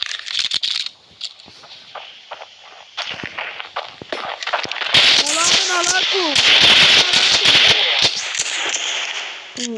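Rapid P350 pistol shots in the mobile shooter Standoff 2, sharp snappy cracks fired in quick bursts alongside other game effects, with a voice talking over part of it.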